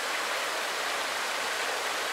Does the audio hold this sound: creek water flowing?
yes